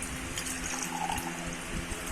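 Clean drinking water fills a bottle at home during setup of an oxygen concentrator's humidifier, a steady splashing trickle running close by with no talk.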